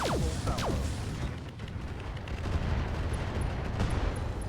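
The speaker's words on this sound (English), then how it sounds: "we will fire the Gauss Rifle HA-20s" Gauss Rifle HA-20s firing in RogueTech BattleTech. The heavy, booming discharges are layered over a continuous rumble of battle noise.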